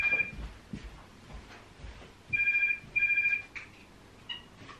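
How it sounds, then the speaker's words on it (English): A telephone rings in a crafts and sewing studio, giving a short trill near the start and then two louder bursts close together midway, each a few tenths of a second long, with a faint trailing chirp afterward over quiet room noise. "The phone hasn't actually stopped ringing in the last couple of days"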